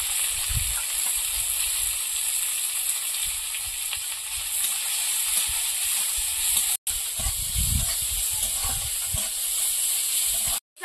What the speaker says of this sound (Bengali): চিংড়ি মাছটা লবণ হলুদ দিয়ে ভেজে নেবো।